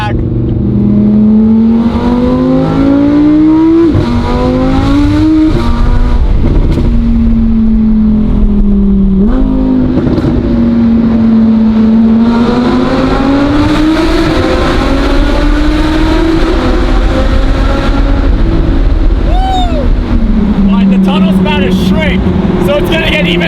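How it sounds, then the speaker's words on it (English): Audi R8 with a titanium straight-pipe race exhaust roaring through a tunnel, the engine note rising and falling through repeated revs and shifts, very loud with echoing reverberation, people shouting over it at moments. "We're gonna go hit the tunnels for the first time with the titanium straight pipes."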